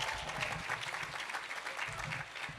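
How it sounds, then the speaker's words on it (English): Steady applause from a conference audience at a strategic plan event, a dense, even wash of many hands clapping throughout, moderately loud with no voices on top. "I want to give Dr. Edington a rousing applause"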